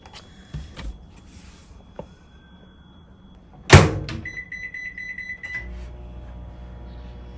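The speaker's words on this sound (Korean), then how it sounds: "일단 이거 전자레인지에 데워올게요." A microwave oven heats thick-sliced zucchini in a home kitchen, with a door clunk, a loud thump, then a steady hum and a high electronic tone over faint background noise, no talking.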